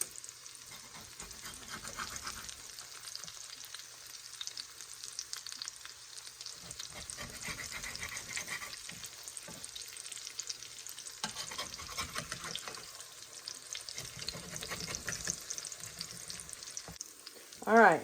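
Potato cakes sizzle and crackle steadily in a hot pan, a continuous close frying hiss with small pops throughout and a brief louder clatter at the very end, no talking over it.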